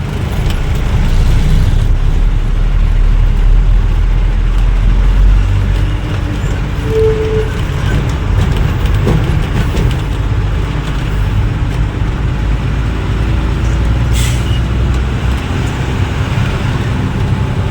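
Heavy traffic jam on a highway under construction: a loud, continuous roar of car, bus and truck engines idling and creeping close by, with no talking.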